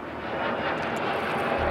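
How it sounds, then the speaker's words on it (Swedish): A camera drone flies overhead, giving a steady close buzzing whir that holds level throughout, with no voices. "Här kommer Lubbe med drönaren"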